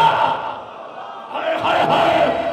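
A crowd at a Muharram majlis sermon calls back a religious slogan in unison, a loud, sustained collective shout that dips briefly and then swells again.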